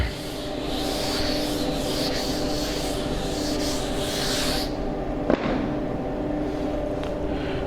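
A classroom board being rubbed clean, a steady close scraping and brushing wash that runs for several seconds, then stops abruptly with a single knock, leaving quiet room tone.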